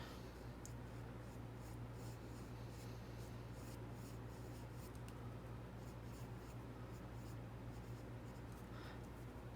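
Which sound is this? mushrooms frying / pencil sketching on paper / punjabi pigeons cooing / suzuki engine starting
pencil sketching on paper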